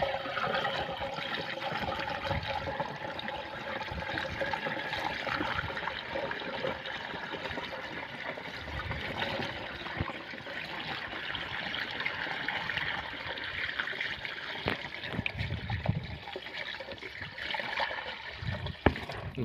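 Water pours steadily into a pesticide sprayer tank as a spray mix for brinjal crops is prepared outdoors, a continuous close trickle and splash with no talk.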